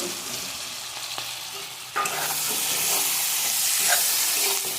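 Tomatoes, capsicum and onion frying in a spice mix for egg chilli, with steady loud sizzling and hissing plus scraping stirring strokes; the sizzle swells sharply about halfway through, and no one speaks.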